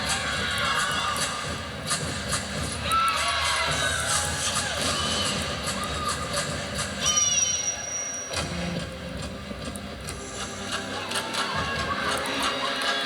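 A dense crowd at a women's gymnastics meet between Florida and Arkansas fills an arena with continuous cheering, shouting and chatter, rising and falling over about thirteen seconds.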